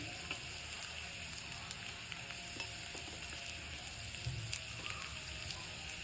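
Soya chunks with turmeric, salt and chilli powder frying in a pan, giving a steady, dense crackling sizzle throughout with small pops, close and moderately quiet.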